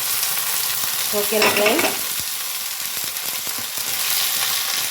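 Papaya pieces fry in oil in a pan with a constant hiss and crackle, stirred now and then with scraping sounds; a person briefly speaks over the sizzle.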